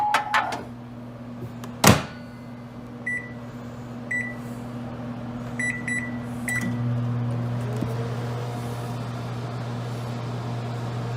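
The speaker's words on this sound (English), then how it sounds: "All it does is use the microwave." A microwave oven hums steadily as it runs, with a sharp thump from its door early on and a short series of high electronic beeps before the drone shifts and continues.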